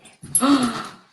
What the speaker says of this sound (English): You're a sneaky dog.